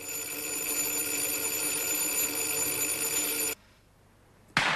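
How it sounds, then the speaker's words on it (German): Several intercom telephones ring at once as a sound effect, a loud continuous electric bell clatter that cuts off abruptly, followed by a short silence and a brief burst of another ring. "dass sämtliche Telefone der Nebensprechanlage plötzlich grundlos gleichzeitig klingelten"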